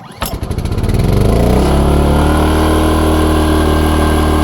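A BLITZ portable generator fires up with rapid pulsing chugs that settle within about a second into a loud, steady engine drone close by, no talk.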